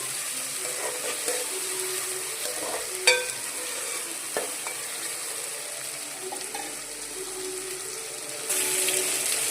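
Onions and tomatoes sauté in a pan for chicken biryani, a steady close sizzle with occasional sharp spoon taps and scrapes against the pan, and the frying swells a little louder near the end.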